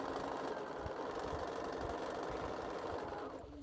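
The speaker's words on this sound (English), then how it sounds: "I'm gonna save myself a little bit and stitch down the middle of this, so I just have one piece I'm holding" Sewing machine stitching down the middle of a tote bag handle, a continuous fast mechanical whirr with steady rhythmic knocking that stops abruptly at the end.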